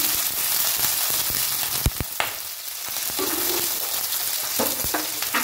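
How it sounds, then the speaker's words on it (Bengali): Chopped onions frying in oil for pasta give a continuous crackling sizzle, punctuated by a few sharp utensil knocks and brief scraping strokes. "গ্যাসটা ধরিয়ে তেল দিয়ে দিলাম, পেঁয়াজ দিয়ে দিলাম, পেঁয়াজ কুচি দিয়ে দিলাম।"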